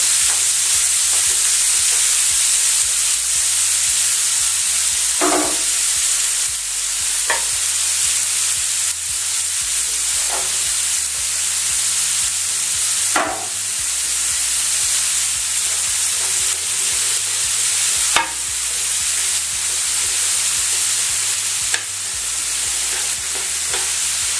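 Vegetables, carrots among them, sweating in a hot pan for a lemon, ginger and apricot chicken fricassee: a continuous close sizzle with occasional louder crackles and stirring scrapes spread across the stretch, no voices over it.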